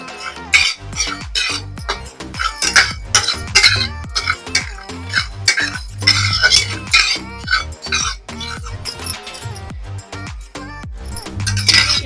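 Whole coriander seeds dry-roasting in a kadai, stirred with a metal utensil: repeated scraping, rattling clinks and knocks against the pan, busy and close throughout.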